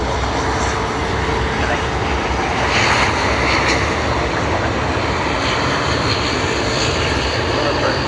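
A Delta airliner, flight DL40, departs Sydney Airport for Los Angeles, its engines a steady, broad roar that holds evenly throughout with no talk.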